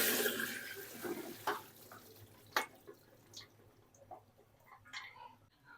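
Quiet splashing and trickling of water draining away from cauliflower, with scattered drips and gurgles tapering off.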